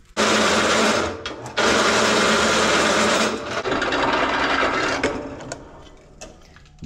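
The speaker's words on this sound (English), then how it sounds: "Back to the drill press." A loud drill press whirs in two long, steady bursts with a brief pause between, then winds down into quieter grinding and clatter.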